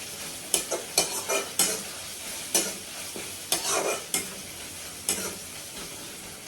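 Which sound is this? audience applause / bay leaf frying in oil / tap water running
bay leaf frying in oil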